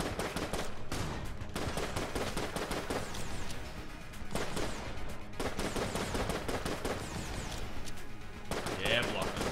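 Rapid, dense gunfire from the video game Enter the Gungeon, a near-continuous barrage of shots with brief gaps, loud and up front.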